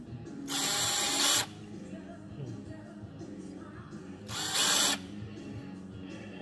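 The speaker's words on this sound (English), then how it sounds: "Now we'll just get them a deburr with the deburrer up. In the hand mill, look." A deburring tool spins in a hand mill in a motorcycle workshop, two short loud high-pitched whirring bursts, each about a second long, separated by quieter room noise.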